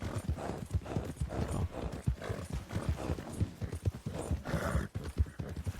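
Horse hooves clip-clop steadily at a walking rhythm in Red Dead Redemption 2, the game's Western riding soundscape, with a brief word spoken near the start.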